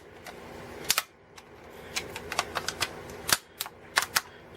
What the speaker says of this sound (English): Now to transform, all you gotta do really is just fold up the legs.